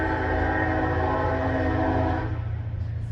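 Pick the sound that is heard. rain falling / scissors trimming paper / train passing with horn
train passing with horn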